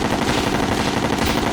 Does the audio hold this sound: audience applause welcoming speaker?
no